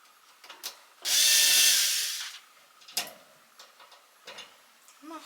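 A power screwdriver works on a closet wall with one brief, loud whirring burst of just over a second, followed by scattered clicks and light handling knocks.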